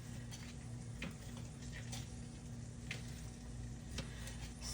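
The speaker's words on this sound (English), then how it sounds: "Here are my onions sizzling." Quiet, steady sizzling of onions frying in a pan, with faint crackles and a few light clicks, no talking.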